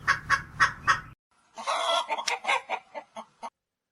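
A rooster clucks in four quick loud bursts, then after a short pause gives a longer run of squawking clucks, close and alone, as a sound effect in a Korean folktale about a rooster fighting a centipede.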